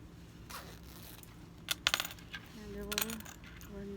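Small metal zipper pulls clink and click in quick bursts as they are fitted onto a bag zipper, close and fairly faint over a quiet background with no talking.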